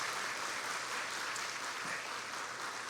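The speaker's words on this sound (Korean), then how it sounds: "여러분들이 격려로 좀 박수해 주시면 좋겠습니다" Congregation applause during a Sunday morning church service, a broad, even wash of many hands clapping at a steady level, somewhat distant and quiet.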